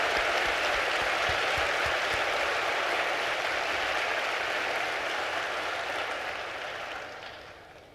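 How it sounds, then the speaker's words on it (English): A town hall audience in Atlanta gives service members a long, steady round of applause, a thick wash of clapping that holds evenly and then gradually fades. "give our service members a round of applause"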